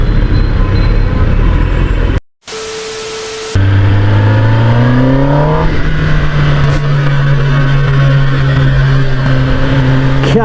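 A Kawasaki ZX10R sport motorcycle ridden through city traffic at night while making a U-turn: a loud, steady engine drone with a rising rev and constant road roar, interrupted by a brief dropout near the start.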